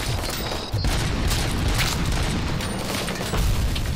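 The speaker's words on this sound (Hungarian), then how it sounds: "Hol lövöldöztek ilyen rohadt nagyot?" Heavy gunfire in RoboCop: Rogue City, a continuous barrage of booming shots and rumbling impacts, loud and dense throughout the few seconds.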